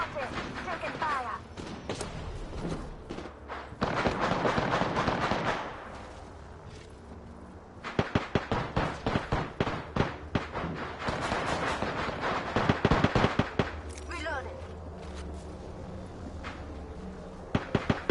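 Gunfire in the shooter game Apex Legends, with rapid bursts of automatic fire and sharp repeated shots, loud and close, alongside explosions and game effects while voices talk over the action.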